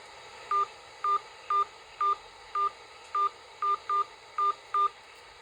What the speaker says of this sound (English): please say or enter your 10-digit phone number now